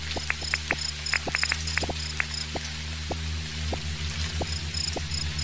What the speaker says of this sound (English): I hear the buzzing noises already.